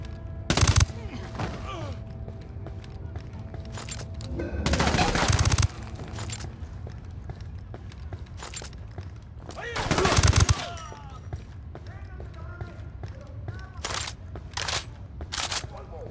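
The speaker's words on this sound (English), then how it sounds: "Opening fire on these fuckers." Machine-gun fire in the video game Ghost Recon Wildlands: repeated loud bursts and single shots cutting through a steady background of game ambience, with heavier volleys around the middle of the stretch.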